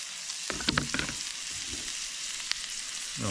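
Chopped garlic hits a hot pan on a Trangia camping stove and sizzles in a steady hiss, with a few clinks and scrapes of stirring on top.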